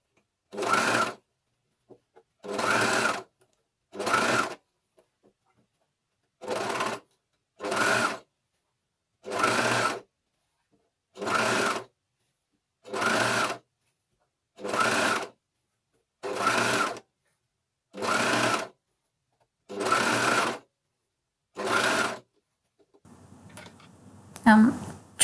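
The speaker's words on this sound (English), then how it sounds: "I'm cover stitching through all the layers." A coverstitch machine sews through all layers to top-stitch a neckband with three needles, running in about a dozen even bursts separated by pauses, ending with a brief faint rustle.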